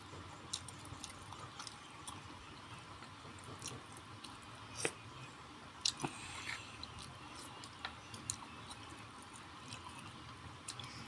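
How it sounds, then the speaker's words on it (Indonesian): Someone bites into and chews a chicken dumpling, soft wet squishes and smacks close to the mic over quiet background hiss, with a couple of sharper bite clicks. "kita gigit dulu dumplingnya"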